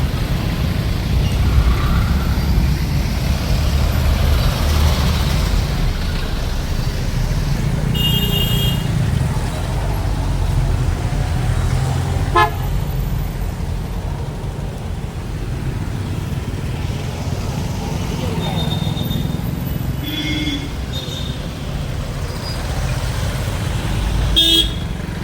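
Antique cars parading at a festival at the Coimbatore racecourse, with engines rumbling past and several short horn toots scattered throughout, over a busy crowd and traffic din.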